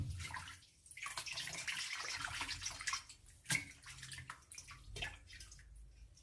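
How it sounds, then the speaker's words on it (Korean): Something is rinsed by hand in a basin of water, with sloshing, splashing and dripping in uneven bursts and brief pauses, close by and fairly soft, with no talking. "찢어지지 않게 최대로 조심하면서 이렇게 헹궈 주시면 돼요"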